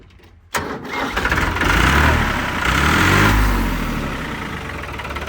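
An old tractor's engine cranks and catches abruptly, then settles into a loud, steady diesel idle close by that swells slightly before holding even.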